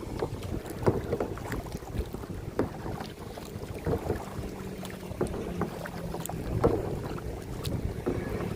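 A kayak is paddled out at sea toward a rock formation, with faint, irregular paddle strokes and water splashes under steady wind noise buffeting the microphone.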